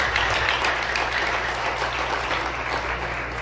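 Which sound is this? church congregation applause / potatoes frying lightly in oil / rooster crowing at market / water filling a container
church congregation applause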